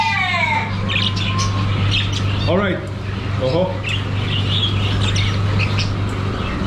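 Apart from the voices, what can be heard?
birds squawking inside a Middle East animal market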